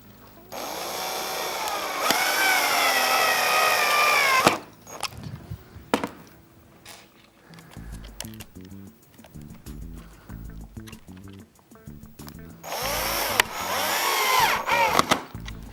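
Power drill driving hinge screws into wood: two long whirring runs at the start and end, each rising in pitch as the screw seats, with knocks and handling noise in between.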